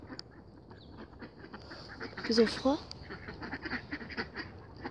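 Ducks at home on a frozen winter day give a short burst of a few quacks near the middle, faint and somewhat distant, while a person speaks quietly in the background.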